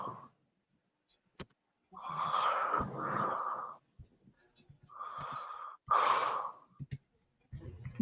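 Slow, heavy, rasping breaths come in long drawn pulses, each inhale and exhale loud and close, separated by brief quiet gaps and small clicks.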